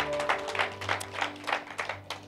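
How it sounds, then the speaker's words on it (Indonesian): A church congregation clapping in praise during a worship service, a series of soft, rhythmic rounds of handclaps that rise and fall over a faint steady hum, with no talk. "Beri tepuk tangan kemuliaan buat Tuhan"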